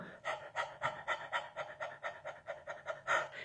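A person imitates a panting dog as a breathing exercise, giving a steady run of about a dozen quick, breathy pants in even rhythm, close and alone.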